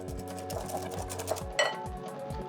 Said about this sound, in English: Grab a whisk, bring it all together.